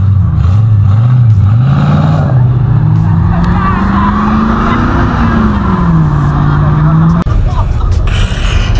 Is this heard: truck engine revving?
yes